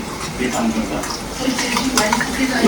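Potato mixture for vada pav being stirred in a pan, with steady scraping and clinking of a utensil against metal over a faint sizzle, close and continuous throughout.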